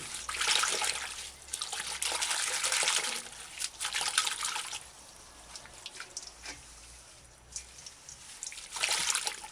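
Comfrey leaves are dipped in and out of a basin of water and rubbed, giving bursts of splashing and dripping that rise and fade several times, with quieter trickles between.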